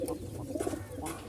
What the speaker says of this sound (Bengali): একদম জোস কবুতর